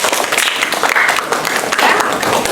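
An audience at a teaching session claps for a student presenter, a steady patter of many hands lasting a couple of seconds, close and fairly loud, with faint voices mixed in.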